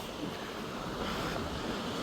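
Pacific Ocean surf on the rough Big Sur coast at Andrew Molera State Park, a continuous wash of breaking waves mixed with wind noise, steady and moderately soft.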